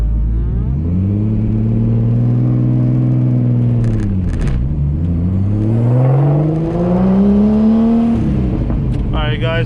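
A turbocharged 12-valve VR6 swapped into a B5 Audi A4 drives along, its engine droning loud and close as the revs climb, drop through a gear change, then rise again under load.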